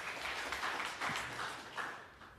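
A church congregation gives hearty applause for Jesus during a sermon, with a dense wash of clapping in uneven surges that is fairly faint and distant and fades toward the end.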